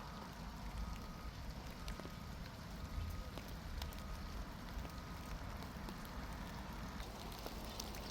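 Rain falling on a flower garden of clematis, roses and hydrangeas on a June day, a dense steady patter of drops with occasional sharper taps on leaves, quiet and even throughout.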